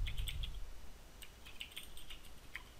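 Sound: typing HTML code on a computer keyboard

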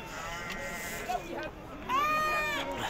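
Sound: sheep bleating at livestock market

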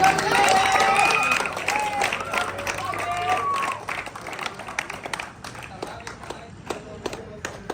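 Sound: audience clapping at a village prize giving

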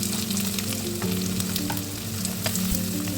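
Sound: onion frying in oil

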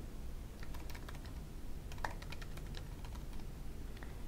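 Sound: typing account details on a computer keyboard

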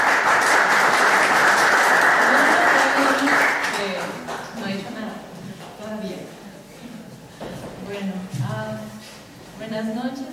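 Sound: applause

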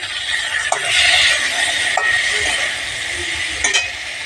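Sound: stirring red amaranth greens in a cooking pan

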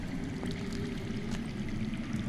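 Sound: underground water flowing in video game Game of Thrones

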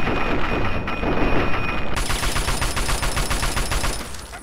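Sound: gunfire in a video game set in the Capital Wasteland

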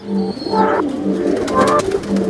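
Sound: racing pigeons cooing in a loft

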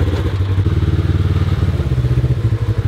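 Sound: rented buggy engine running, engine at the rear

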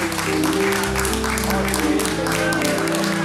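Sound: wedding guests applauding the parents of the couple

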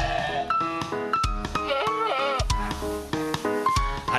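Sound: goat bleating at a sacrificial animal market

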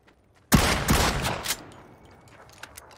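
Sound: gunfire from a bot in the video game PUBG

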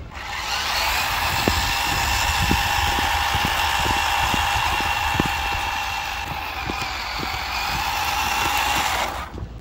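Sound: RC Unimog truck motor driving in second gear

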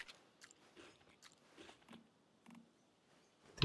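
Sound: character eating food in video game Once Human

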